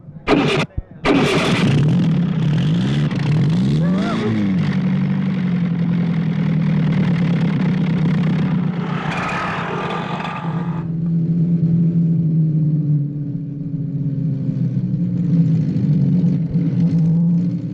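An old car engine cranks over and catches, then revs with a rough, loud rumble before settling into a steady idle; faint talk is audible underneath.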